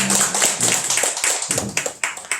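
A church congregation at a Sunday Thanksgiving worship service gives a short round of applause, a dense patter of many hands clapping close by, irregular and fading toward the end.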